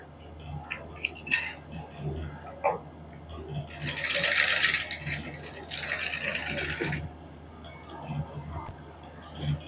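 A sewing machine stitches lace onto a suit, starting with scattered clicks and handling noise and then running in two steady whirring bursts of a few seconds each, close and fairly loud.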